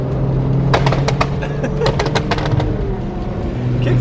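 A loud car engine revving hard at a car show, with sustained roaring and rising pulses over crowd noise, and people talking nearby.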